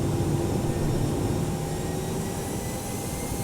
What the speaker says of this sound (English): we're gonna go toga thrust